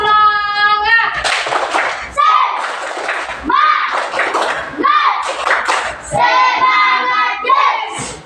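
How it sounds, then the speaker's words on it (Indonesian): Children in a classroom perform a rhythmic clapping chant, sharp bursts of hand claps in repeated phrases alternating with their loud chanted voices, close and energetic with short pauses between groups. "Sekali lagi tepuk semangat."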